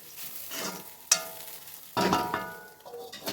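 A spoon stirring urad dal wadi curry with coriander powder in a pan, with scraping strokes and clinks against the metal over a soft sizzle, close by and without talk.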